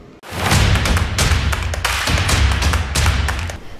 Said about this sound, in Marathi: पोलिसांचे अभिनंदन करत फटाके फोडत जल्लोष करण्यात आला.